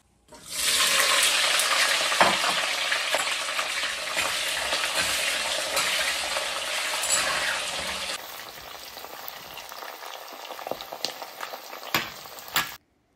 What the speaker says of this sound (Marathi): तर सगळ्यात आधी तेल गरम झालंय, तर मी इथे कॅप्सिकम आणि जे अनियन आहे ना त्याला थोडंसं तेलामध्ये परतून घेते